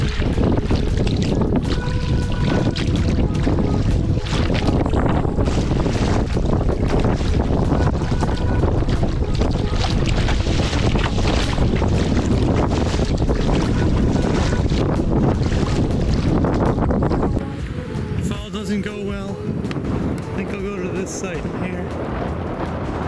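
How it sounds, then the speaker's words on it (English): Strong gusty wind blasting the microphone on Shall Lake in Algonquin Park during rain, a loud continuous buffeting roar that suddenly drops off near the end to calmer sounds. "More wind to come."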